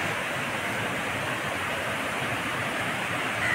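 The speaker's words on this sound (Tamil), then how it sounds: "தண்ணியோட சத்தத்தை கேட்கும்னு நினைக்கிறேன்" Loud, steady roar of rushing water pouring through a gate at Mettur Dam in Salem, India, a dense continuous wash of noise with no voices.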